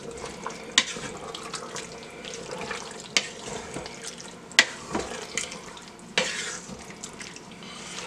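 Beef goulash being stirred in a pot, with a steady wet bubbling simmer and a few sharp clinks of the spoon against the pot at irregular intervals, close up, with no talking.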